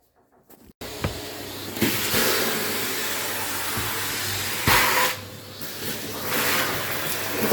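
A vacuum cleaner sucks up loose plaster debris and dust while a bathroom is repainted, its steady motor drone switching on sharply and running loud and close, with brief surges and dips in pitch as the nozzle moves.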